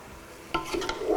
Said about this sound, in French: Donc là, je vais mélanger.